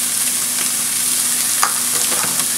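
Breakfast burrito filling cooks in a pan with a constant, fairly loud frying hiss and a few faint pops and ticks, no voices.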